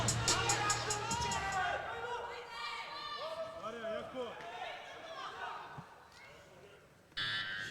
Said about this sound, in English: Huge amount of support in the crowd for this man